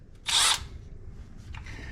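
A power drill whirs loudly for about a quarter second, working on a 1969 GMC truck, then a fainter second burst follows over low background rumble.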